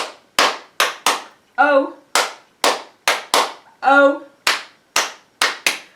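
A group claps along to the Bingo children's song at a library storytime, sharp single claps in a steady rhythm with two short sung syllables breaking the pattern between claps.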